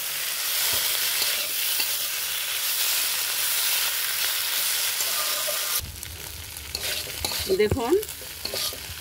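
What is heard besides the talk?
stirring banana flower mixture with lentil fritters in a pan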